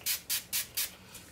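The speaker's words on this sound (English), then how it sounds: "kind of just spray the product right into the brush" Tanning product is sprayed into a blending brush in four quick, close, breathy bursts at an even rhythm, followed by a faint fifth puff.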